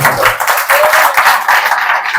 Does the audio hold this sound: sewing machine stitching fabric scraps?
no